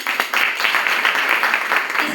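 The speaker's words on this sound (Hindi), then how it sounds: "बहुत सुंदर, जोरदार तालियां" Applause from an audience at an Atal ji birth anniversary celebration, a steady dense patter of many hands clapping, fairly loud and close, running without a break.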